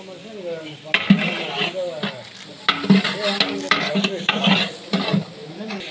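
Ginger garlic paste frying in oil for mutton curry, with loud, close stirring scrapes and sizzling in bursts, while a voice talks over the cooking.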